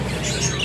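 A pet budgie, or keet, chirps in a short, continuous burst of bright twittering up close, with no voices.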